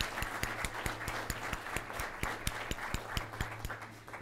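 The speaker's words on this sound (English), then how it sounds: "Please join me in a round of applause for all of our partners." An audience at an awards ceremony breaks into a round of applause, with dense, steady clapping and a few sharp, distinct claps standing out near the front. No one speaks over it.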